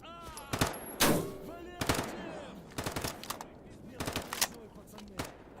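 Gun fired in a video game, a series of sharp, loud shots and short bursts spaced irregularly, with faint talk in between.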